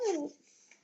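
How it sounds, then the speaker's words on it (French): A dog whimpers indoors, one high, falling whine near the start followed by a fainter trailing whimper, close and alone without talk. "Le pauvre toutou."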